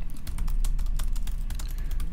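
Fingers typing on a computer keyboard, a quick, continuous run of close, crisp key clicks with no speech over it.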